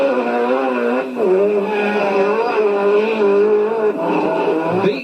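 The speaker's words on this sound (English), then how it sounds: "Let's have a look at some rallycross action now." Rallycross cars race flat out, engines whining and droning at high pitch with shifting revs and a brief skid near the end, heard continuously at moderate distance.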